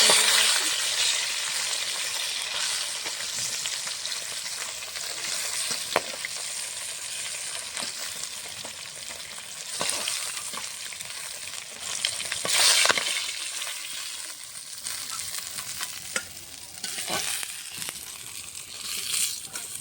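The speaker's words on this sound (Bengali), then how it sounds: "বাকি মাছগুলো এভাবে ভেজে নেব।" Continuous loud sizzle of catla fish pieces frying in oil, with crackling spatters, steady throughout, punctuated by occasional scraping and louder bursts of hiss.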